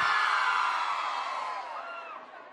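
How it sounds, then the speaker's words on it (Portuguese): Crowd of women scream and cheer together at a live forró concert in Maranhão, Brazil, one loud high-pitched burst that slowly fades over a couple of seconds. "Cadê o grito da mulherada solteira aí?"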